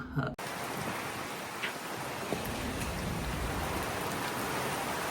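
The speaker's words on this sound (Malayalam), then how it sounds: "നല്ല സീൻ ഉഷാറ് മഴ പെയ്യാണ് മാക്ഡിയിൽ" Heavy rain pours down at a McDonald's in Germany in a dense, constant roar, close and loud, with no voices.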